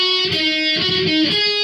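Electric guitar plays the bridge, sustained harmonic-rich chords changing roughly every half second across a short steady phrase, with no voices.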